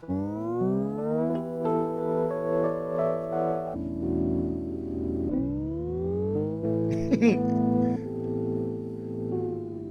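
Road sound slowed with a half-time slow-motion effect: tonal synthesized drones glide and step between pitches, sounding slowed and stretched, with a brief chirpy glitch partway through; no voices.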